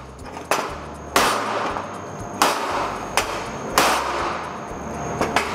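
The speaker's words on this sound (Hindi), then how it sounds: "थोड़ा सा हथौड़ा भी ट्राई कर लेते हैं।" Hammer blows on laser-welded aluminum, about eight sharp metallic strikes in an irregular rhythm, loud and close with ringing decay, and no talk.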